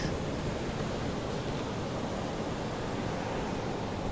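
Ocean surf at Tanah Lot on Bali's coast, a steady broad rushing wash of waves, loud and unbroken with some wind, and nobody speaking.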